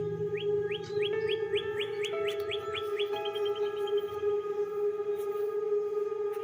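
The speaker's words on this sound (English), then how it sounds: "Kind of cool to hear them birds in the winter." Birds chirp in winter near old red-brick ruins in Rhode Island, a quick series of rising repeated notes over a steady hum, moderately near.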